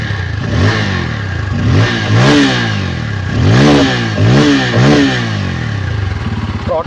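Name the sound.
Bajaj Pulsar N250 motorcycle engine revving, exhaust note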